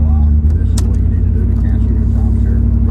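A 1990 Chevrolet Camaro IROC Z/28 on a test drive gives a steady, low engine drone heard from inside the car, loud and constant throughout.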